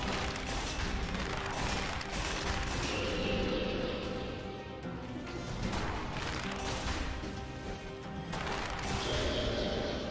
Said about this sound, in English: Big ol' cannon, doing a good job.